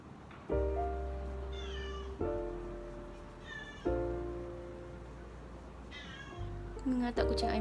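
A cat meows near and loud, four drawn-out calls spread over several seconds with quiet gaps between them, all heard with no talk over them.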